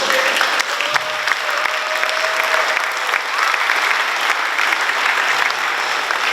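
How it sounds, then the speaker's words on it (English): Graduation audience at a 2025 high school ceremony applauds in sustained, dense clapping that stays loud and steady throughout, with a faint tone briefly rising under the claps and no voices standing out. "Can you also please stand up so we can give you a round of applause?"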